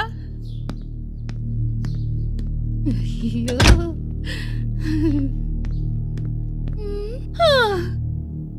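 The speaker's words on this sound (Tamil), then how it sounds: "கொஞ்சம் கதவு மூடுறா" A door closes with a single dull thunk in a room, followed by a few faint knocks. The sound sits among soft voices and a steady low hum in the background.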